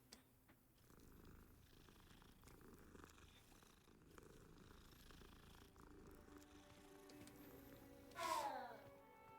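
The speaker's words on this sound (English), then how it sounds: "Let me pet the cat." A cat purring while being petted in the wizard-school video game, a very faint steady low purr running throughout, with a short higher cry near the end.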